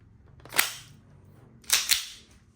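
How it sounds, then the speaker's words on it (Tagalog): Two sharp shots from an Army Armament R609 STI Staccato Executive Silver airsoft pistol crack close by, the first alone and then a quick pair of pops about a second later, each with a brief hissy tail. "So, test natin tong Army Armament STI Staccato Executive"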